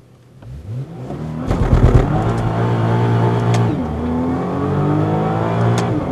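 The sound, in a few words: sports car launch control start from 4,000 RPM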